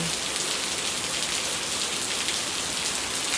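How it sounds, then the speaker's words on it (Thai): Steady rain pours in Chanthaburi on a rainy day, with rainwater running down, a dense continuous hiss of drops on surfaces filling the whole stretch evenly, close and fairly loud, with no voices. "สังเกตในน้ำฝนเขาจะไหลลงแบบนี้เลยค่ะ"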